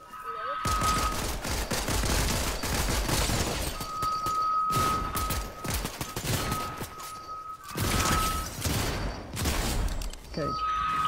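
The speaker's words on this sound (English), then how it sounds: "Yes, I'm shooting." Gunfire in the video game Fortnite, bursts of rapid shots and cracking impacts repeating over several seconds with short gaps, a steady tone running through parts of it and talk underneath.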